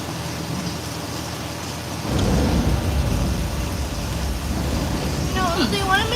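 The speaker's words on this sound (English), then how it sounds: "And we've got some rain effects going on as well right now." Theme park rain effects at Hollywood Studios, with water sprayed into the air to fall like rain, swell into a loud steady hiss with low rumbling after a quieter start, and faint voices underneath.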